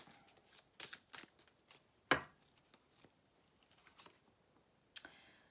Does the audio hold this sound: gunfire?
no